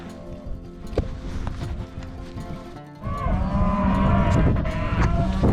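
Cattle, steers and heifers, low repeatedly while moving through a ranch gate into an alleyway, with several overlapping moos growing louder and busier in the second half over steady farm background noise.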